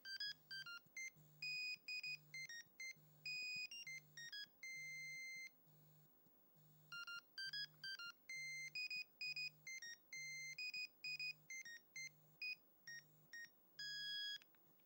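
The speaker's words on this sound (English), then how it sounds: "No, the mobile phone noise." A Nokia-style mobile phone ringtone plays as a clear, rhythmic string of bright electronic beeps in short melodic phrases, repeating steadily with brief gaps over a low pulsing tone, fairly faint and with no talking.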